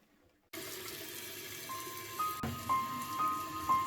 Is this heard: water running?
yes